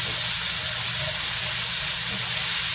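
Peppers and onions sizzle loudly and steadily in a hot pan, a dense continuous hiss with faint scraping as a wooden spatula works them around.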